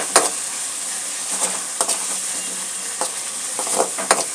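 Onion, ginger and garlic paste sautéing in a pan, a loud close sizzle broken by intermittent scraping strokes of a spoon, with no voices.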